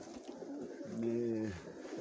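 A pigeon coos in a low, rounded, wavering call lasting about a second, close by, with faint background noise and a soft voice nearby, at a pigeon loft in Chornobaivka, Mykolaiv region.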